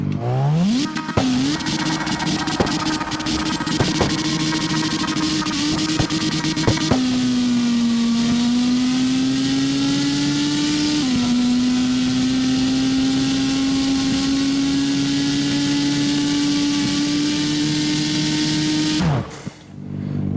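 Mazda RX7 drag car in the video game CarX Drift Racing, its engine holding a loud, steady drone that shifts pitch slightly partway through before cutting off abruptly at the end.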